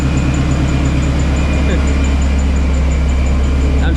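A Procharged Shelby GT350 idles in cold weather, a loud, steady low engine rumble holding constant and close throughout with a faint high whine on top.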